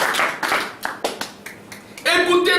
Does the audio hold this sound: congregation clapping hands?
yes